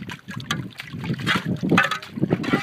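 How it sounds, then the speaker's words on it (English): Water gurgles and rushes steadily through a buried pipe at a pond under construction, a churning, bubbly flow with splashy bursts, close by and fairly loud. "Can't see it now because the water's coming through so quickly."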